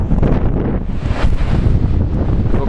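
Wind roars across the microphone on Blackpool beach in Lancashire, with ocean surf washing beneath it in a steady, loud, broadband rush and no voices.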